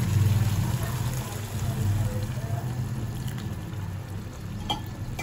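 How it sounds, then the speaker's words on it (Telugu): Water is poured into a pot of simmering chicken curry, giving a soft continuous gurgle and sizzle close by, with low background rumble and faint kitchen noise throughout. "ఓకే, మనం దీంట్లో వాటర్ పోద్దాం."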